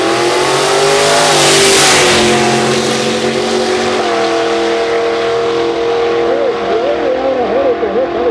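A 1956 Chevrolet drag car with a 440 engine accelerates hard at a street-car nitrous outlaw drag event, a loud roaring engine note climbing through the run with shifts, under announcer talk throughout.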